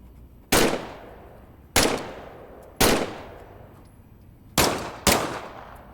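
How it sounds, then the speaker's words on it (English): A weapon is test-fired in the VR shooter game Medal of Honor: Above and Beyond: five sharp, loud single shots at uneven intervals, each followed by a decaying echoing tail, with no voices. "Just to be sure, why don't you test fire your weapon?"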